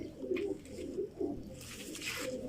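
Pigeons in Pakistan coo softly in low, repeated throaty phrases, close by, with a faint hiss in the background.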